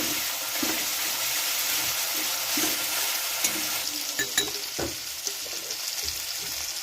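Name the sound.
ginger garlic paste and chopped tomato sizzling in pan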